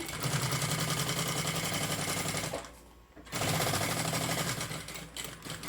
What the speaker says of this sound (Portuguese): E agora eu vou começar a costurar de baixo